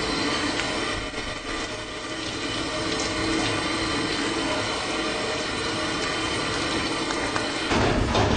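A tap runs steadily in a sink during aseptic technique practice, a continuous broadband rush of flowing water that stays fairly loud throughout and swells slightly near the end, with no voices.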